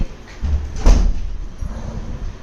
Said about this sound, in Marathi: दरवाजा बंद करते.